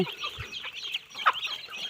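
Chickens, small and large, cluck softly nearby in a short burst of scattered calls, fairly quiet with no talking.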